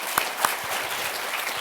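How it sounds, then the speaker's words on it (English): Audience applause welcoming a speaker at an entrepreneur leadership talk: a dense, even patter of many hands clapping, with a couple of sharper, louder claps standing out near the start. "please welcome him with a round of applause"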